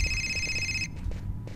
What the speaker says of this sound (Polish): Telefon dzwoni.